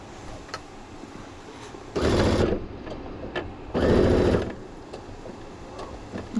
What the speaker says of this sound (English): I'm going to sew this tag on there as well